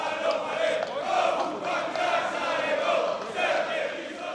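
Crowd of Roma football fans marching and chanting together, a loud, sustained mass of voices rising and falling in waves with a rough, shouted edge.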